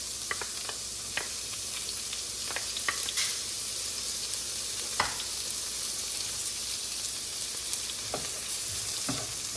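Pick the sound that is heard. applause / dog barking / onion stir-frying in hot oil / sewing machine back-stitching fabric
onion stir-frying in hot oil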